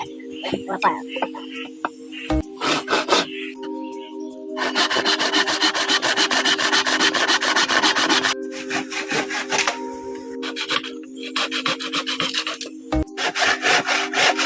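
Hand saw cutting scrap wood pieces to level a homemade craft stool, with steady back-and-forth rasping strokes close up in several runs, separated by short pauses and knocks, with a voice talking at times.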